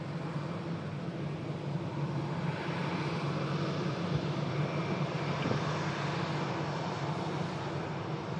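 An EasyJet airliner takes off from runway 23 right, its engines giving a steady, broad roar that holds at a moderate, fairly distant level for the whole stretch.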